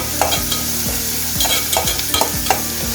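Onions fry in a pan with beetroot nearby, sizzling steadily up close while a utensil scrapes and stirs in quick repeated strokes.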